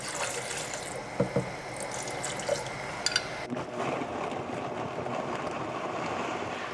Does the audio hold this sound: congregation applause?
no